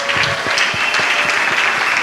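A church congregation at a Sunday service with Rev. Paulin Mputu claps loudly and continuously, the hands landing together in a fairly regular rhythmic beat.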